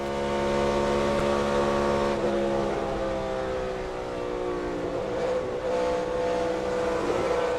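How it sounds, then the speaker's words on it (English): In-car sound of a NASCAR stock car at Texas, the engine droning loud and steady with strong harmonic whine, pitch sagging and wavering as the driver loses grip and cannot get back to the throttle. "if we play this from the in-car from Bubba, you can really listen to this and hear where Bubba can't go back to the gas"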